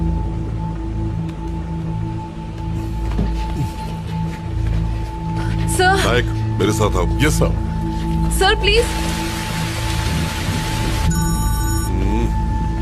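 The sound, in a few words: heavy rain falling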